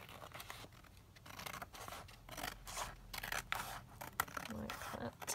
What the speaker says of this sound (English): So let me just get rid of those scraps and start here, just trim that down